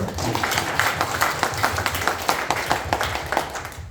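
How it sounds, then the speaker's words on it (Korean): Audience at a conservative lecture in a church hall in Daejeon, South Korea, claps steadily throughout, a rhythmic, somewhat uneven patter of many hands over a low murmur of the room. "박수 한번 쳐주시죠"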